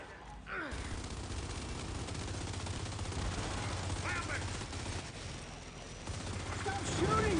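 Gears 5 Horde mode gunfire on the Nexus map: dense, continuous automatic shooting and crackling bursts fill the whole stretch, with brief whooshes and impacts mixed in, loud and close throughout.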